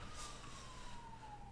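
An ambulance siren in The Sims 4 arrives as one steady, slowly falling wail, faint and alone against a low background hum.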